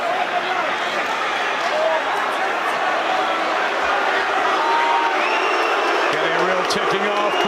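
Dense crowd roar at a Chris Eubank vs Liam Williams boxing match, rising as the fighters close in, with a commentator talking over the steady arena noise throughout.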